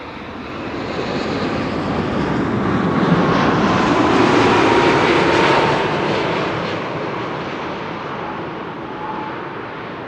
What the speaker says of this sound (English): This is a 787-10 Dreamliner.